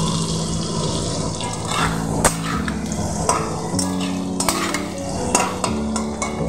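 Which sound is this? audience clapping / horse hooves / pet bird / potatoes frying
potatoes frying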